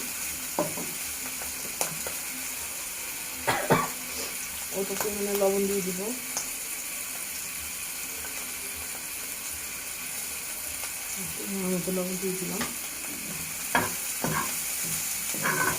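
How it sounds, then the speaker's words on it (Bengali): Steady sizzling of food frying slowly in a pan over low heat, with occasional scraping and clinking from stirring; a voice speaks briefly over it twice. "একটু আগুনটা কমিয়ে অল্প অল্প করে ভাজতে হবে আস্তে আস্তে।"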